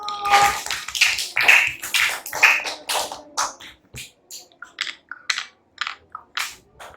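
A class of young schoolchildren clapping their hands in a lesson, starting as a dense, close patter of claps that thins into scattered, uneven single claps.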